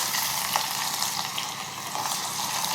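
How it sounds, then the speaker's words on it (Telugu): Cumin seeds and onion fry in hot oil in a pan, a steady bright crackling sizzle that continues evenly at close range with small spitting pops. "oil heat ఎక్కాక half tea spoon జీలకర్ర వేస్తున్నాను అది కాస్త వేగగానే ఆనియన్"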